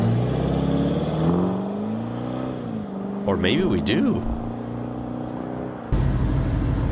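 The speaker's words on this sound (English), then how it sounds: "Okay, this is a Ford diesel we do not get here for sure." A Ford Lion diesel engine revs and passes by, a steady droning hum rising and falling in pitch and heard under a voice talking over it, with a brief sharper burst near the end.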